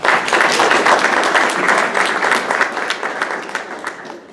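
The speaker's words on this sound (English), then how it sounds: "I want to just give yourself a round of applause right now." Audience at a Columbia Rotary Club gathering gives a full round of applause. The dense, energetic clapping starts loud and slowly thins and softens over about four seconds.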